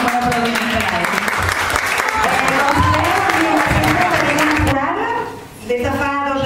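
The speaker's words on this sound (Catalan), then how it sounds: "Un bon aplaudiment per a ella." Audience at a Sant Jordi event in a care residence and day centre applauds the choir director with full, steady clapping. Voices carry over it, and the clapping dips briefly near the end before resuming.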